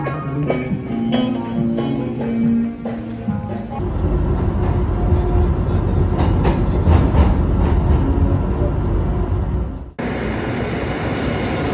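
Interior of a moving train in Turkey: a loud steady rumble of wheels on rails with rhythmic clacking and occasional squeal, a brief cut near the end, and faint voices under the noise.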